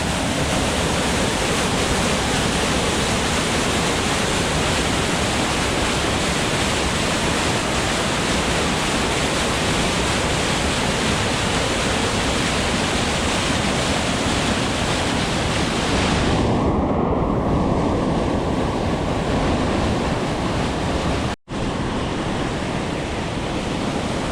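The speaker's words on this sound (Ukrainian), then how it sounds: "І ще вам покажу один маленький водоспад." Steady, dense rushing of a small waterfall pouring continuously, broadband and close, with a brief dropout near the end.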